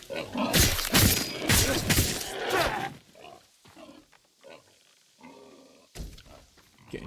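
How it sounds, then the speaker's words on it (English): Wild boars in the Ghost of Tsushima video game grunt and squeal in loud, harsh bursts over the first three seconds, then fainter scuffles and short snorts follow, with another sharp burst near the end. "Getting jumped by fucking pigs again."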